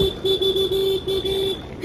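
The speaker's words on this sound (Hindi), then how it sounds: "सो गाइस, हमारे स्कूटी का हॉर्न बताओ" A high-pitched scooter horn honks in a rapid series of short beeps, loud and close, with brief gaps between them.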